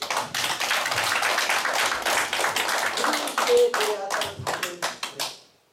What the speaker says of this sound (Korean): 여러분 박수 한번 쳐야지